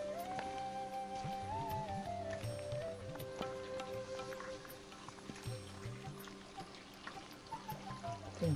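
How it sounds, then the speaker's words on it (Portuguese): Running water from a spring at Bica da Aguinha in Vila Nova de Milfontes, Portugal, a close continuous pouring trickle mixed with other steady tones. "Tranquilo, água a correr"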